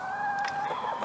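Backyard chickens at feeding time, a few close clucks and short calls over a steady tonal hum, brief and fairly loud.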